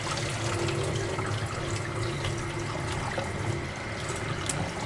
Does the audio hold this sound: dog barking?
no